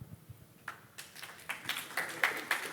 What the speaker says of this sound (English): You made people clap for that, by the way.